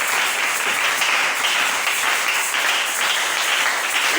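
A church congregation applauds to acclaim the Lord, a dense, steady wash of many hands clapping together, loud and sustained for several seconds with no pause.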